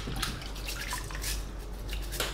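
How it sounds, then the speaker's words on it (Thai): Dried salted fish being gently rubbed and rinsed in water, heard as continuous close splashing and trickling with light dripping, no voices. "ถูล้างให้ความสะอาดให้ดีเลยนะครับแต่อย่าถูแรงนะ"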